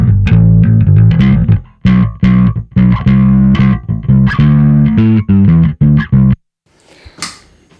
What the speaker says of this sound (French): j'ai mon son avec la distorsion